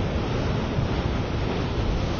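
Wind and waves aboard the tall ship Christian Radich under sail in a regatta, a loud, steady broadband roar of rushing air and water with wind buffeting the microphone.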